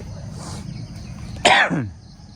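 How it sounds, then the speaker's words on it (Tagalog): A single sharp cough bursts out over quiet background noise, close and fairly loud. "Uy, inuubo na naman."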